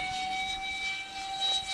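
An electric RC F-16 jet model flies overhead, its ducted-fan motor producing a steady high whine with stable tonal lines over an airy rushing roar that swells slightly near the end.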